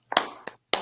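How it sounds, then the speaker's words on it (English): Three sharp, separate hand claps spaced evenly in under a second, close and fairly loud, marking a round of applause at the end of a women-in-leadership talk. "just let me give a round of applause."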